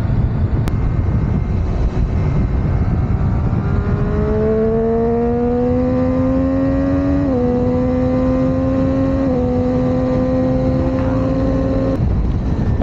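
A KTM Super Duke motorcycle accelerates past a rider on a road, its engine note climbing in a strong, rising whine with two clear gear-change dips before it fades. The sound is loud and close, over a rushing wind noise, with no talk.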